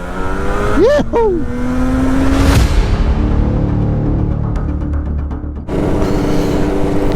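A 1993 Yamaha RD 350R two-stroke motorcycle with YPVS power valves revs loudly and rises in pitch, with a brief shout over it before the engine sound carries on steadily close by.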